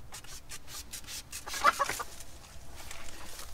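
Hens clucking at close range in a farmyard, soft irregular calls that rise briefly in a louder cluster midway, then settle into a low, steady murmur.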